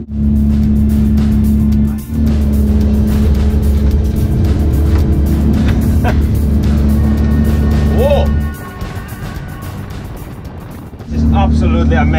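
An Arronet 24.5 motorboat runs flat out at about 32 knots, its engine a loud, steady drone with a strong low hum. The roar dips briefly near the start, drops away for a few seconds, then surges back.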